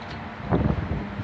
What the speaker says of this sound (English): I apologize if things are kind of windy, day out here.